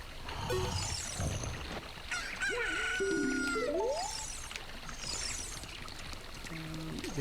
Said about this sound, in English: Got our chicken.